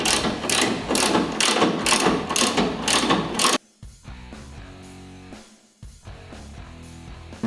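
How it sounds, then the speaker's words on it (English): Ratchet wrench loosening the front brake caliper bolts on a Harley-Davidson bagger, a rapid run of close, loud clicking bursts followed by slower, quieter ratcheting strokes and pauses. "Remove the caliper bolts on both sides."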